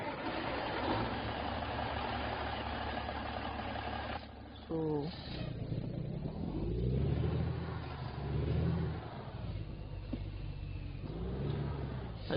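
Kenworth T800 truck engine in a driving game mod, a steady low drone that rises and falls with throttle, running continuously with someone talking over it.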